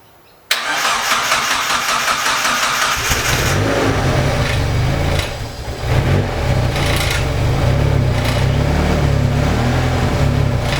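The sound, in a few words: forged Mazda BP turbo engine running on first start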